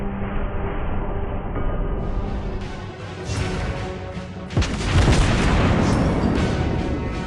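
Warship gun salvo in World of Warships Blitz, aboard a tier 6 Nuremberg cruiser: a low engine rumble with scattered booms, then a sudden heavy salvo blast and a long roaring decay, loud and with no talk.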